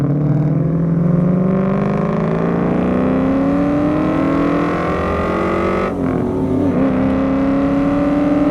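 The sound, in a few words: 1994 Ford SVT Cobra engine starting and driving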